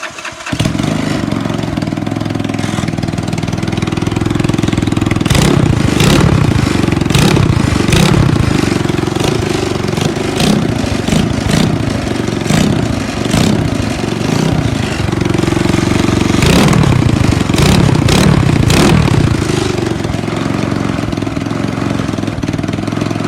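A 250cc race lawn mower engine with a new exhaust runs loud and steady nearby, its rough idle broken by several sharp revving bursts and rattling, with no one talking.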